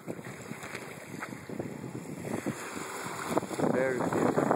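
Ocean at Takapuna beach with steady wind buffeting the microphone, a broad rushing wash of surf and gusts that swells slightly louder toward the end.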